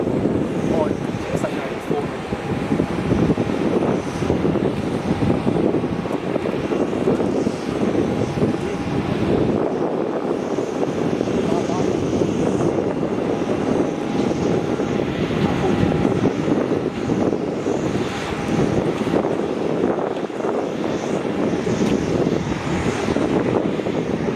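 An Etihad airliner in Choose Italy livery at Melbourne Airport, its jet engines a steady broadband roar with wind buffeting the microphone and faint talk underneath.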